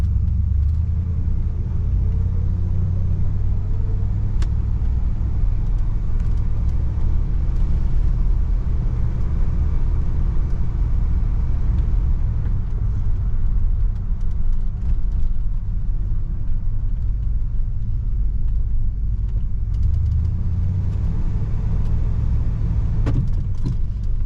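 A 1971 Cadillac Deville rolls along on a test drive, its engine and road noise forming a continuous low rumble heard from inside the car at a steady level throughout.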